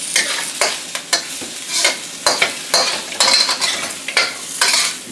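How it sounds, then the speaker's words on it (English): Garlic stirs in sizzling oil in a pan, a steady close fry broken by repeated scraping strokes of a utensil, with no voices. "add some oil. Stir it around, let it get fragrant."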